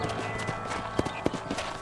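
A horse's hooves clip-clop in the Red Dead Redemption video game, with a steady rhythmic beat of sharp hoof strikes at moderate loudness.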